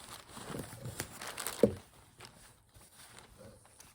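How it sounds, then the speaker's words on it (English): A plastic package holding a fabric haul torn open by hand, close crinkling and ripping with a sharp tear near the middle, then softer rustling as the wrapping is handled. "let me rip it open"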